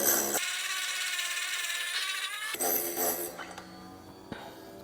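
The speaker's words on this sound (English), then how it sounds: "we also spin this, and we can just watch as that tungsten gets nice and sharp" A tungsten welding electrode is sharpened on a Blue Demon StaySharp Pro grinder, giving a close, steady whirring grind that shifts in tone partway through and then eases off.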